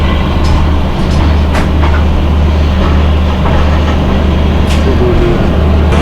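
The 22892 Ranchi–Howrah Intercity Superfast Express pulls into Purulia Junction, a loud, continuous low rumble of rolling wheels with faint rhythmic rail clicks, heard from on board without any talking.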